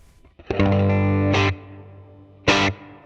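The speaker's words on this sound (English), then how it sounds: "I'd like something a little bit bigger sounding. So I'm going to do a large hall" Distorted electric guitar chords through a Fender Mustang GT amp's large hall reverb ring out with a long, spacious tail, followed by a second sharp strummed burst.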